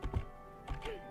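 Computer keyboard keys pressed in quick taps while playing a Legend of Zelda–style PC game, several close clicky strokes in a short burst with no talk.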